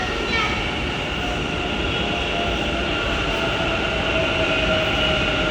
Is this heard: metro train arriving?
yes